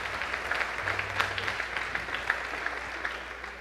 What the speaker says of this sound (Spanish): Quisiera pedirles un aplauso a los músicos también, por favor